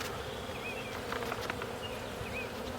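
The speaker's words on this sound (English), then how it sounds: "I got a bee in my veil." A honeybee buzzes close inside a beekeeper's veil during a spring hive inspection, a steady near drone with its pitch rising and falling as the insect moves, and no talk over it.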